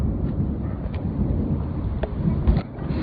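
Thunder from a supercell storm near Saint-Cyr-au-Mont-d'Or rumbles continuously, a deep, steady low roll with light wind buffeting throughout.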